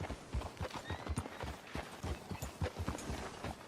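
Horse hooves in Red Dead Redemption 2 clip-clop in a quick, steady rhythm, close and fairly faint, with a rushing background underneath.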